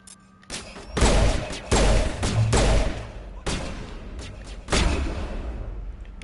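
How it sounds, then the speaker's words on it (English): Bursts of gunfire in a video game, fired at the player while driving a Mako on a planet, with several loud volleys and a pause between them. "Who's shooting at me?"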